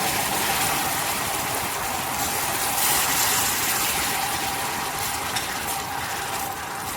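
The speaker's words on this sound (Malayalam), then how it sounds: "ഇതിലേക്കൊരു 1/4 കപ്പ് നല്ല തിളച്ച വെള്ളം ഒഴിച്ചു കൊടുക്കുക" A loud, steady hissing sizzle fills the whole stretch as boiling water is poured into caramelized sugar in a hot pan, close and continuous with no voices.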